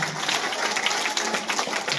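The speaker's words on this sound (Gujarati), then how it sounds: "આપણે જોરદાર તાળીઓથી આ તમામ વિદ્યાર્થીઓને અભિવાદન કરીએ" A crowd at a school book exhibition claps for student volunteers, dense, steady applause filling the room for a couple of seconds.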